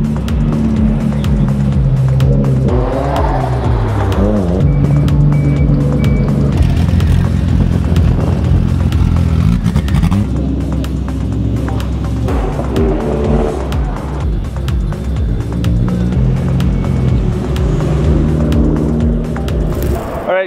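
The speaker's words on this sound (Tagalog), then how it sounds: "Yung mga kotse lalabas na maririnig natin yung mga tunog nila and makita natin sila umandar." Modified cars roll out at a car show in Japan, engines revving and accelerating loudly close by, with tire squeal and cars passing in a continuous roar.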